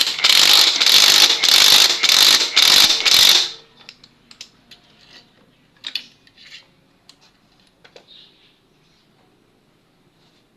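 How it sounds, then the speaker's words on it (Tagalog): A castle wrench on a TMX 155 motorcycle makes a rapid, loud ratcheting burst of about five clicking pulls, close by. It is followed by faint scattered taps and small metallic clinks. "Pitan po natin ang castle wrench."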